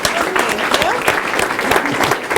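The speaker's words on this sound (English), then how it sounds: "a quick round of applause" A room of attendees at a PA Week 2016 event gives a quick round of applause, dense and steady clapping close by, with voices mixed in beneath it.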